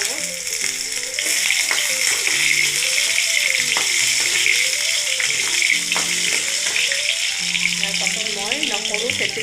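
Diced potato frying in hot oil with cumin and panch phoron five-spice in an Assamese kitchen, a loud steady sizzle throughout with a voice speaking over it.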